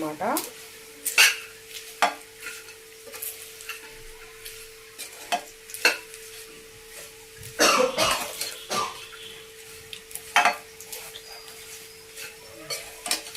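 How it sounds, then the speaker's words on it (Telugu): A spoon stirs bitter gourd fry coated in chili powder in a hot pan just after the stove is switched off, giving intermittent scraping strokes and clinks over a faint sizzle and a steady hum, with a few louder bursts. "ఒకసారి ఇలాగా కలిపేసుకోవాలి ఆ వేడి మీద కలిపేసుకుంటే కాకరకాయ ముక్కలకి కారము పొడి అంతా పడుతుంది"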